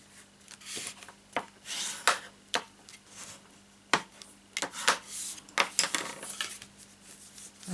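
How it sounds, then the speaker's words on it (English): Folded paper card being burnished, a series of close, brisk rubbing strokes and short scraping swipes with brief pauses between them. "once you fold that, give it a good burnish"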